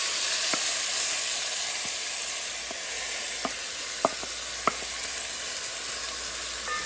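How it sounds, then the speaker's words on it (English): Soaked rice sizzles in hot ghee in a pan, a steady broad hiss throughout with a few faint clicks and taps from the pan. "Now adding the soaked rice."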